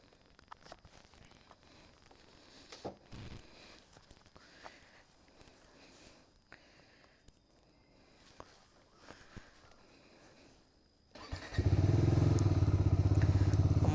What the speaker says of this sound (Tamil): அதுக்கு முன்னாடி வண்டியை வார்ம் அப் பண்ணி வைக்கலாம் கொஞ்சம்.